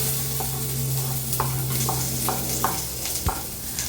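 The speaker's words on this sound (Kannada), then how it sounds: "ಎಣ್ಣೆ ಬಿಸಿ ಆಯಿತು, ಅದಕ್ಕೊಂದು ಸ್ವಲ್ಪ ಜೀರಿಗೆ ಮತ್ತು ಸಾಸಿವೆ" Cumin, mustard seeds, onion, tomato and curry leaves sizzle steadily in hot oil, with a continuous loud frying hiss broken by scattered pops and a few clinks of a stirring spoon, close up and without talk.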